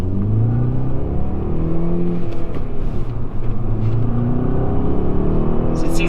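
Volkswagen Jetta GLI, sixth generation with a manual transmission, pulls hard from inside the cabin as a steady low engine drone builds and rises, loud and continuous throughout.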